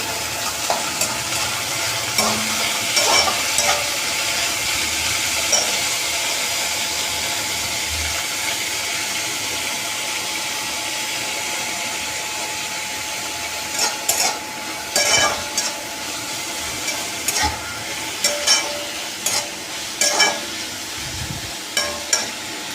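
Chopped vegetables for Hakka noodles stir-fry in hot oil, giving a steady broadband sizzle across the whole stretch, with frequent clicks and scrapes from a utensil stirring the pan, louder in bursts toward the end.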